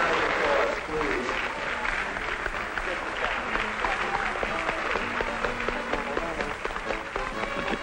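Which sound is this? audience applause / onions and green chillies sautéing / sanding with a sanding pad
audience applause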